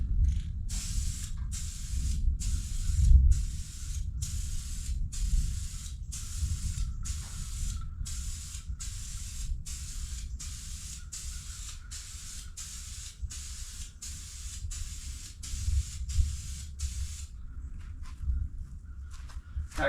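Spray paint hissing onto a Stingray Corvette in rapid, regular bursts, about twenty short sprays in a row with a low room rumble beneath, fairly close and steady, then stopping near the end.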